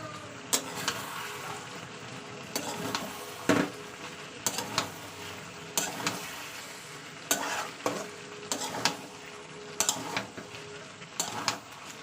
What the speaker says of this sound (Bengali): চলুন এবার মশলাটা ভালো কষিয়ে নেবো তেলের সঙ্গে